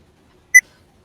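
A single short, clean electronic computer startup beep sounds once in near silence.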